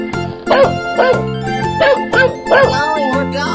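A dog barks in a 3D animal slide game, giving about six loud, evenly spaced barks close up over looping game music.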